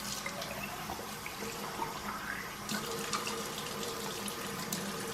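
Water runs steadily from a tap into a tie-dye squeeze bottle, a continuous rushing, splashing wash close by with no talking.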